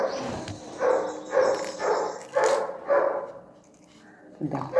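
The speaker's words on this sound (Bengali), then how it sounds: "কোন বাড়ি থেকে আবার কুকুর" A dog barks repeatedly, about six barks in a loose rhythm, at moderate distance, with a brief voice at the end.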